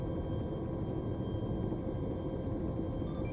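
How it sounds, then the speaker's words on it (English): A Chinook helicopter in the game Arma 3 flies overhead, heard as a steady, fairly faint low rumble that holds without change. "There's another Chinook in the sky."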